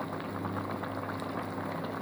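Poplar ryadovka mushrooms boiling in a pot, a steady dense bubbling and simmering hiss with no pauses, moderately loud and close.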